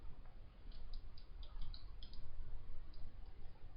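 A run of light, quick computer mouse clicks, close and fairly faint, irregular in rhythm, with several clicks bunched together over a soft background hiss and no talking.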